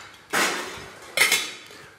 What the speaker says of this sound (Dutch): Ik kan er toch een dekseltje op zetten